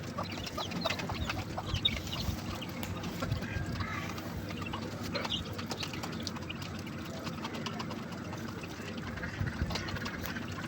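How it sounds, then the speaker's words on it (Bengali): Village chickens peck at scattered feed with steady clucking and rapid pecking close by, a constant busy barnyard bustle throughout. "মুরগিগুলাও কি সুন্দরভাবে খাচ্ছে।"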